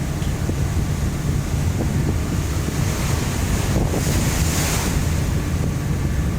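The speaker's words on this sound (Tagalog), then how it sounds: "Grabing alon pala dito oh." Constant roar of ocean waves and wind rushing past a moving ship in the Taiwan Strait, loud and unbroken, with heavier surges of water splashing midway.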